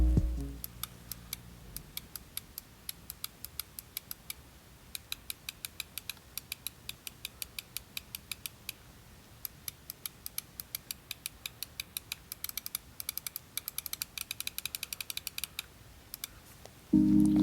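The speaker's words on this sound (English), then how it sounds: "But if you're just kind of testing the switches, they're not great. Here's a sound test." Switch clicks from a Cooler Master MM720 ultra-lightweight gaming mouse are tested in a long run of crisp, evenly spaced clicks, close and isolated, quickening in bursts toward the end.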